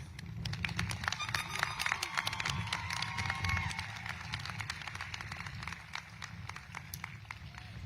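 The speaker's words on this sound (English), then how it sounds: "Let's give a big round of applause to the teachers and the staff that helped shape the last 4 years." A high school graduation audience at La Sierra gives sustained applause for teachers and staff, many scattered hand claps and a few cheers rolling steadily throughout, moderately distant and filling the space.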